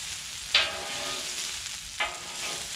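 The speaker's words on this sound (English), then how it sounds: "we're starting to get more sizzling" Vegetables sizzle steadily on a hot griddle, a loud, even frying hiss broken by two sharp scraping sounds as they are slid across the surface.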